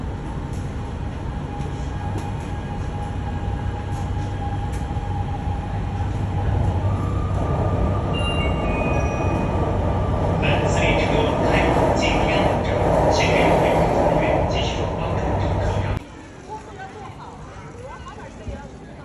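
Busy central railway station in Nanjing, China, with a dense, steady wash of crowd and rail noise and bright tonal squeals, close and loud before dropping abruptly near the end.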